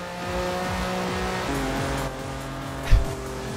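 Cars pulling up at a German and Italian pre-1980s car meet in Forza Horizon 4, engines humming steadily with a shift in tone midway and a brief thump near the end, no talking.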